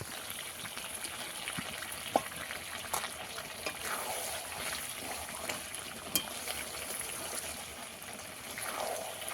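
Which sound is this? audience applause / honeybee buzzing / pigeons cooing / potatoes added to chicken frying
potatoes added to chicken frying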